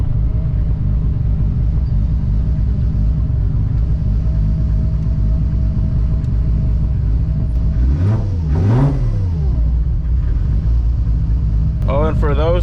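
A 1000-plus horsepower Toyota MKIV Supra drones steadily while being driven, with a continuous low rumble and a pair of rising-and-falling rev sweeps near the end as the engine pulls hard, loud and close throughout.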